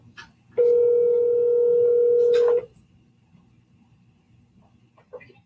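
A single steady electronic telephone tone sounds loud and clear for about two seconds on an outgoing call, then cuts off into near silence with faint background noise.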